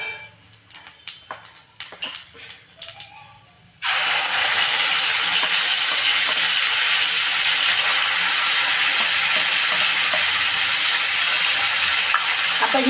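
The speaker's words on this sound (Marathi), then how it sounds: "जिरे एकदम तडतड झाल्यानंतर" Cumin seeds and spices hit hot oil and burst into a loud, steady sizzle and crackle that carries on alone after a few quieter clinks and stirs.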